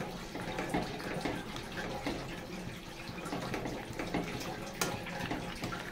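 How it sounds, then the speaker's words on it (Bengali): Water is poured into a simmering fish curry of bori, beans and potato, giving a steady close wash of liquid splashing and bubbling with no pauses. "সামান্য এক ফোঁটা জল দিয়ে দিলাম।"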